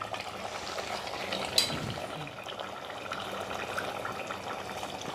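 A spoon stirs mutton curry in a pan as water is added, with soft scraping and a low sizzle and bubble running steadily through. A single sharper clink sounds early on.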